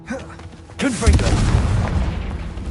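A Confringo fire spell bursts with a loud boom in the wizarding game Hogwarts Legacy, erupting after a short lead-in and trailing into a rumbling, crackling wash of blast noise over low game sounds.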